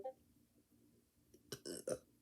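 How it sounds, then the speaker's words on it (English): A single loud, close burp bursts out in a few rough pulses after a stretch of near silence. "Sorry about the burp there."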